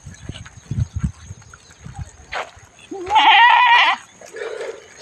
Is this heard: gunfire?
no